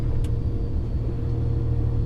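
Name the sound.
car engine while reversing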